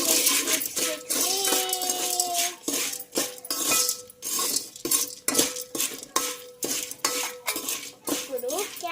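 A spoon scrapes and clinks against a metal pot as salted homemade popcorn is stirred, in quick, repeated, uneven strokes with sharp metallic rattles, close and loud.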